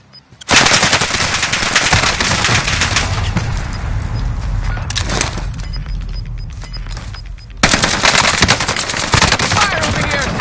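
Video game gunfire on a battlefield: sustained loud machine-gun bursts and rapid shots, briefly dipping before another dense volley.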